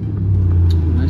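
A car rolls past nearby with a steady low engine rumble that stays loud for about a second, outdoors beside a wall where a mural is being painted.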